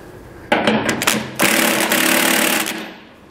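A bolt is tightened with a 7/8 socket during a trailer suspension bushing installation, producing a brief loud mechanical burst followed by a longer, steady rattling run that cuts off, heard close.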